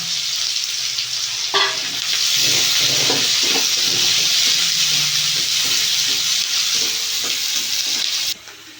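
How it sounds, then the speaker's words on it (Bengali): Sliced onion and split green chillies hit hot oil with a loud hissing sizzle, followed by steady close frying with clinks and stirring scrapes, continuing for several seconds before cutting off. "তেলের মধ্যে দেবো পেঁয়াজ দিয়ে দেবো কাঁচা লঙ্কা চেরা"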